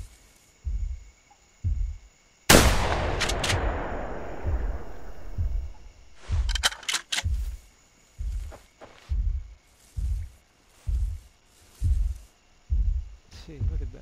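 Gunshots in the dinosaur-hunting video game theHunter: Primal, with a T-Rex in the scene: a loud, sharp blast with a long decaying tail, then a few quicker cracks, all over a steady, rhythmic heartbeat-like thumping.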